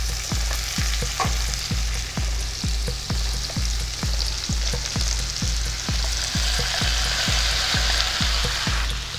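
Steamed jackfruit, prepared with salt and turmeric, goes into a frying pan with fried potatoes, sizzling loudly and steadily while a utensil stirs in a regular rhythmic scraping pattern close by.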